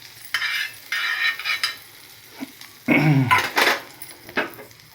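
Bread roasts in butter in a pan on a home stove. Intermittent bursts of utensil scraping and metallic clinks come from close by, with a faint sizzle underneath and no talking.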